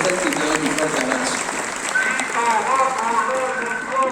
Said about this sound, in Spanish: Un aplauso para Fabio